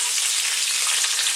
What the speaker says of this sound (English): we're going to go for our fresh curry leaves, which we're going to drop in